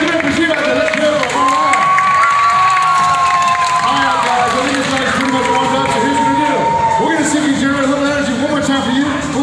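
A crowd cheers, shouts and whoops at a dog show, loud and continuous, with children shouting and an announcer's voice over the noise.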